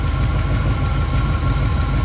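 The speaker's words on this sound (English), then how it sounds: "Not only did it crank, it fired, and it's idling." The engine of a 1971 GMC 1500 truck, just started for the first time in decades, idles steadily up close with a low, even rumble and mechanical hum.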